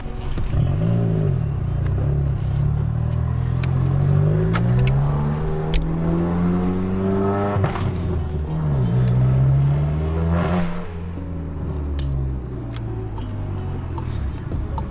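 A Volkswagen MK7 GTI with a muffler-delete kit drives with the windows partly down, its loud, raspy exhaust droning and rising and falling through gear changes, heard steadily from inside the car.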